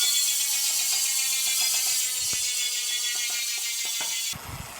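A bicycle rear hub freewheels in top gear after a hard spin, its ratcheting pawls buzzing in a fast, close-miked whir that gradually slows before cutting off near the end.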